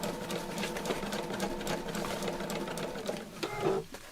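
A domestic sewing machine stitches steadily through fabric while sewing over an appliquéd tree shape, a continuous mechanical whir with rapid needle clatter that slows and falters near the end.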